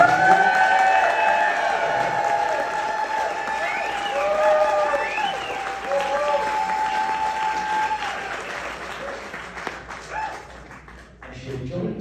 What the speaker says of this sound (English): If you can clap loud enough.